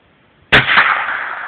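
A single sharp rifle gunshot fired at a grasshopper, sudden and loud up close, followed by a short decaying outdoor echo.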